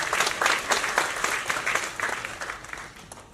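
Audience applause at a laptop distribution ceremony during an honoring on stage: dense, steady clapping from a crowd, fairly close and continuous, tapering slightly toward the end.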